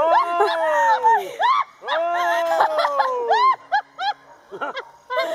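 A dog on a porch barks and yelps in quick, rising and falling bursts, close and loud, with a few short pauses between volleys.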